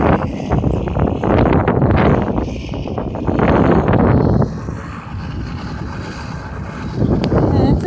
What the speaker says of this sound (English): It's getting really windy now and very cold.